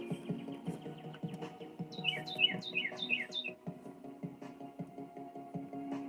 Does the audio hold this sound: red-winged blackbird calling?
yes